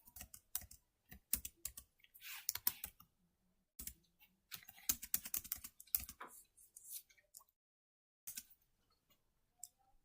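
Computer keyboard typing during data entry in Tally Prime accounting software sounds close and crisp, with irregular bursts of rapid keystrokes and scattered single taps separated by short silences.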